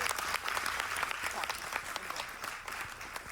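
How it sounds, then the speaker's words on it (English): Comedy-show crowd applauding veterans in the audience at a charity event, a dense, moderately faint wash of many clapping hands with no speech. "Yeah, raise your hands. Yeah, round of applause."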